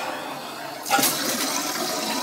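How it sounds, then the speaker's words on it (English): Water rushes into a home-brewing vessel, starting abruptly about a second in as a tap is switched on, then pours steadily and fairly close with no talk over it. "Let's put some water in the old watsit."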